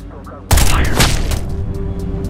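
A sudden volley of gunfire erupts in Ghost Recon: Future Soldier, loud and close, with sharp repeated cracks ringing out over a sustained rumbling tail.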